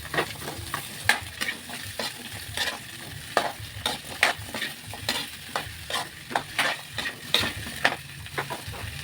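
Potatoes and carrots sizzle in a pan with browned garlic, stirred with repeated scraping strokes over a steady frying hiss, close and fairly quiet, with no talking.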